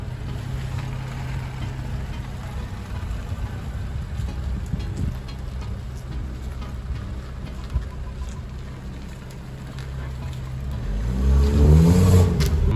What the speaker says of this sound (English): So there it is, AFE power intake and 55 motor. We're gonna take it for a run